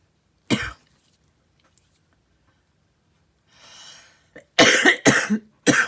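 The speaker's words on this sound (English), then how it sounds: "I don't know why I'm coughing." A person coughs several times during a casual tarot reading, starting with one sharp cough, then a soft breathy pause and a final burst of three loud, close coughs in quick succession.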